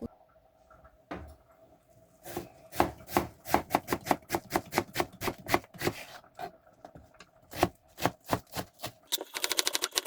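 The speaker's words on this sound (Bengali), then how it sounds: "পেঁয়াজগুলা কুচি কুচি করে কাইটা দিই" A knife chops onions finely on a board for a Bangladeshi cooking session with prawns and Malabar spinach, sharp rapid knocks that start sparse and build into a fast, close, steady rhythm, ending in a quicker flurry.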